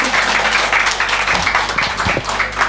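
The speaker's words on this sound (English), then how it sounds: "Come, like, shall we give a round of applause to welcome her?" A church crowd applauds to welcome a speaker's wife to the front, steady dense clapping that fills the room, loud and continuous throughout.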